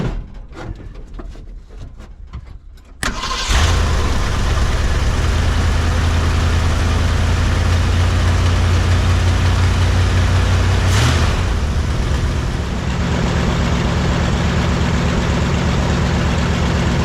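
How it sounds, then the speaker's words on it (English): An old Ford car engine is started after an antifreeze top-up. A few faint ticks come first, then the engine catches abruptly and settles into a loud, steady, low idle nearby, with a brief shift in pitch partway through. "Let's see if the car will start and run so I can get some antifreeze circulated through it."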